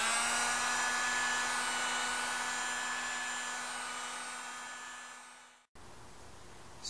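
A hair dryer used to warm a Bakflip G2 hard tonneau cover blows a steady, loud broadband whoosh with a low hum, fading slightly before cutting off abruptly near the end; a brief quieter noise follows.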